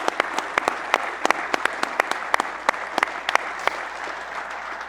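Applause at a transport conference session, with sparse individual hand claps sounding sharply and unevenly over a steady clapping wash, held at moderate loudness for about five seconds.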